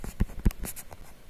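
Letters being written by hand with a pen or marker on a surface, heard as a few short scratchy strokes and taps in quick succession, close and fairly quiet, with no talk.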